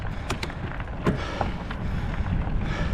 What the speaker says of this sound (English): Oh, you can hear that wind.